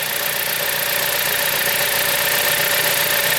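A 2007 Chrysler Sebring engine idles steadily after a valve cover gasket and belt replacement, with a smooth, constant hum and faint mechanical ticking heard up close, with no voices.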